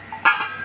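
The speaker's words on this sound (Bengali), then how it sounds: "এখন আমি ঢেকে দিলাম" A lid set down on a pot of boiling water in a home kitchen, giving a single sharp metallic clank with a short ringing tail, close and fairly loud.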